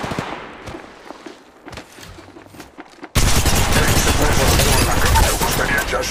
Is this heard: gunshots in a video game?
yes